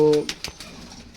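Kalduma and Kamagar pigeons, a pair of large birds with bound tails, giving a brief soft coo at close range with a few quiet rustles after it.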